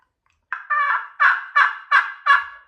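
A hand-operated turkey call imitates a hen with raspy yelps: one drawn-out note, then five short, evenly spaced yelps, close and clear against silence.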